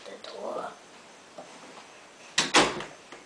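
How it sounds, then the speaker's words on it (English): An indoor door is pushed shut during a karate lesson, giving a sharp doubled thud near the end after a stretch of quiet murmuring voices. "we might as well shut the door"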